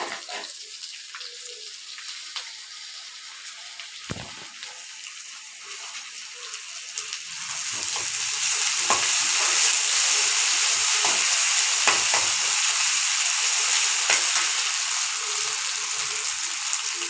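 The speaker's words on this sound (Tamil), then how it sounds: "இப்போ இஞ்சி பூண்டு பேஸ்ட்டு போட்டுக்கலாம்." Ginger garlic paste frying in a pan, a sizzle that starts moderate and swells louder partway through, then holds steady, with scattered light clicks and scrapes and no talk.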